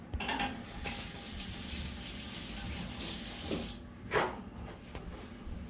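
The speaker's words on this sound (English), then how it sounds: "Here, wash our hands." Hands washed under a running kitchen tap while baking cheesecake: a steady, close rush of water with splashing changes as the hands move, and a brief clatter near the end.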